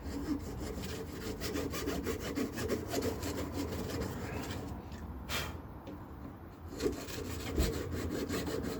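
A fine saw or file scrapes steadily back and forth through the fret slots of a Les Paul guitar neck being built, giving a close, continuous rasping with short rhythmic strokes and a brief pause midway.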